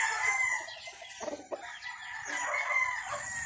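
Chickens on a farm cluck and crow close by in a short burst, with a rooster's call standing out over the quieter background of the flock.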